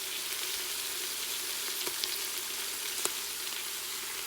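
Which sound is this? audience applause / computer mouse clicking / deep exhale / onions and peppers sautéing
onions and peppers sautéing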